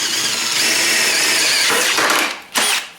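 A sharp drill bit cuts through a Kawasaki KLT 200C cover, a loud close whine lasting about two seconds that drops off, then a second short burst before stopping.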